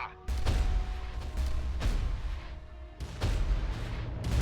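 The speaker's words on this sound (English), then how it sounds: "Hit with the volcano cannons" Volcano cannons on a war titan fire in Adeptus Titanicus: Dominus, four heavy booming shots spaced about a second apart over a low rumble.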